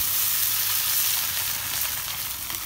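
Leftover cooked rice frying in hot oil with onions in a home kitchen, a steady close hiss and sizzle throughout with no talking.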